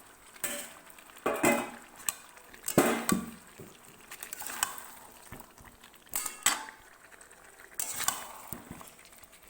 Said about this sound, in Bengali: এবার এটাতে আমি ভাজা আলুগুলো দিয়ে ভালো করে মশলাটার সাথে মাখিয়ে নিচ্ছি।